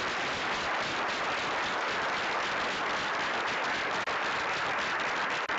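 Sustained audience applause for a guest speaker at a talk, a dense steady wash of many hands clapping at even loudness throughout, with no voices over it.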